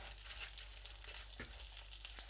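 Chicken pieces frying in a pan over low heat, a quiet, even sizzle with faint crackles and a few small pops, close and steady, no talking.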